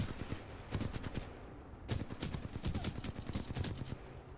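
Rapid bursts of gunfire from the shooter video game Titanfall 2, loud and dense with repeated volleys and a brief lull midway, no talking.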